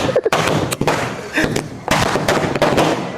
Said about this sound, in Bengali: বাজি ফুটান, এবার ফুটান বাজি, আরো ফুটান, আরো ফুটান